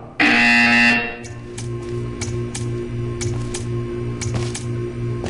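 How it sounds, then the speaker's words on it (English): A loud electronic buzzer from the video game Portal 2 blares for about a second, followed by a quiet humming room tone with faint intermittent clicks and ticks. "You will hear a buzzer. When you hear the buzzer, stare at the art."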